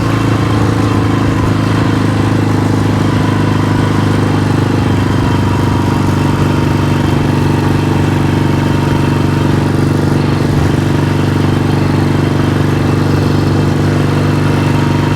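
A vintage Yamaha motorcycle, a 1971 XS1-B or 1972 XS2 twin, runs steadily while being ridden and slowed with downshifts, a loud, continuous engine drone with wind rush filling the whole stretch.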